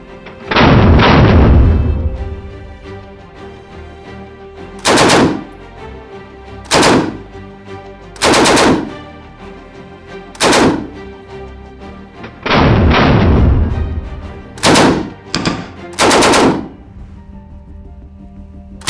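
A WW2-era British weapon set to automatic fires several loud bursts and single reports, some long sustained rattles and some short cracks, with pauses between strings of fire.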